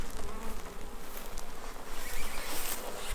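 Bees buzz densely in an opened beehive, a close, loud, swarming hum that swells and wavers continuously, with no voices over it.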